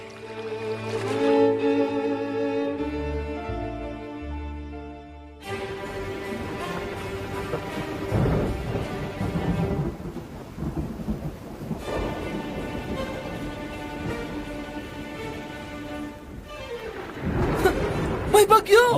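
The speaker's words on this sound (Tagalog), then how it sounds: "May bagyo!" A thunderstorm at sea, with heavy rain and rolling rumbles of thunder building and breaking across the scene, set under music at the start and with voices talking over the storm.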